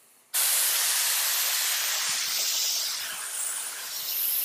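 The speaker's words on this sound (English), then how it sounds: "when you first pull the trigger, you're getting just air, no paint" An HVLP spray gun releases a steady, loud hiss of air laying down a light mist of paint, starting abruptly and holding continuous with slight swells and dips, no voices.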